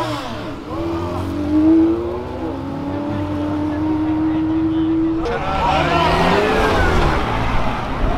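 A BMW drag racing car accelerates with a rising engine note that climbs steadily, then a second surge of revving takes over; people talk over the engine throughout.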